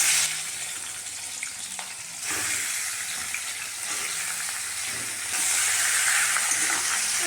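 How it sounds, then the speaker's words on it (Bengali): Chicken fries in oil in a pan, a continuous moderate sizzle and crackle that swells and eases in level with small stirring knocks, no one talking. "ওই তেলে চিকেনটা একটু ভেজে নেব"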